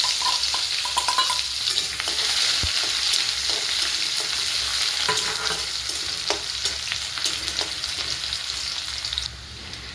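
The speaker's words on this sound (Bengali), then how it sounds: "এবার এর মধ্যে দেব পেঁয়াজ কুচি।" Chopped onion sizzles and fries steadily alongside washed Gobindobhog rice in a pot for a chicken one-pot meal, with a continuous loud crackle and occasional stirring scrapes, no talking.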